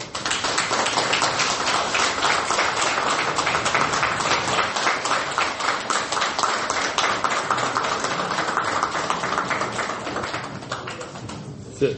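A crowd applauds Dr Hawa Touré with steady, loud clapping at a public gathering, sustained for about ten seconds before tapering off near the end.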